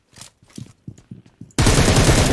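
Gunfire in the video game PUBG Mobile aimed at a player on a bicycle: a few short shots and clicks, then a sudden loud, continuous burst of automatic fire.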